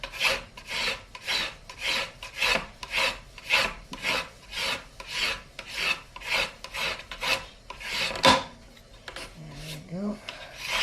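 Sanding block rubbed by hand along a guitar fretboard binding, a steady run of regular rasping back-and-forth strokes close up, broken near the end by a sharp knock and a brief low sound.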